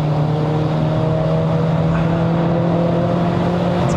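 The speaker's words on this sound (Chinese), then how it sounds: "你看他加速啊" A W205 Mercedes-Benz C180 AMG Line accelerates on a mountain road up to Genting in Malaysia, a steady, droning engine hum with a low tonal note that holds evenly throughout, heard close from inside the car with no talk.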